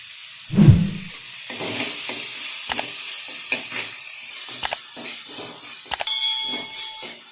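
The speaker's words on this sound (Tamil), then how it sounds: "இதை இப்படி இந்த ஆயிலே ஃப்ரை பண்ணிப்போம்." Chopped onions and green chilli frying in hot oil in a pan, a brief loud drop-in splash followed by a steady soft sizzle with scattered stirring clicks and scrapes, no talking.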